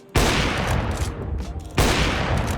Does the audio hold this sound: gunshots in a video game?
yes